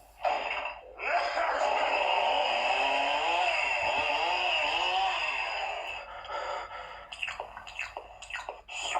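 A Proffie lightsaber core plays an Army of Darkness chainsaw-style blade sound: a harsh, buzzing chainsaw-like hum drones steadily for several seconds, then breaks into choppy bursts near the end.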